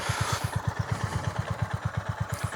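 A 2025 Honda GB350S motorcycle engine idling close by, with a steady, rapid low thumping pulse and a light mechanical clatter above it.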